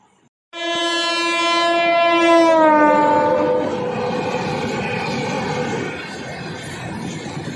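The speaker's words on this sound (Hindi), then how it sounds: "सारनाथ एक्सप्रेस" The Sarnath Express sounds a loud, sustained horn at close range, followed by the heavy rumble and clatter of the passing train that continues steadily to the end.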